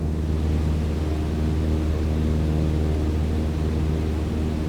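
Steady low engine drone from an aircraft powering up to taxi in Flight Simulator, a continuous even rumble and hum held at a constant level, with no voices.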